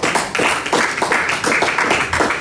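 Church congregation applauding together during a sermon, a dense sustained wash of many hands clapping with slight rhythmic surges, fairly loud and close, with no clear talk over it.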